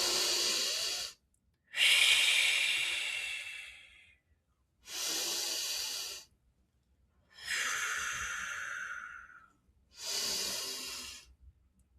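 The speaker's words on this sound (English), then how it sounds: "Inhale through your nose as you bring the shoulders up. Exhale through the mouth as you drop them down." Slow, deliberate breaths alternate between inhaling through the nose and exhaling through the mouth, five long airy breaths close to the mic, separated by short silences.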